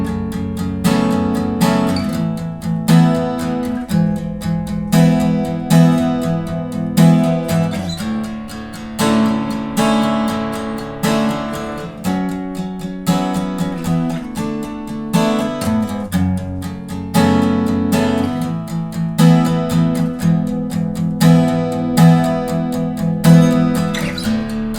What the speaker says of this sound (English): So altogether, the verse chord progression will sound like this.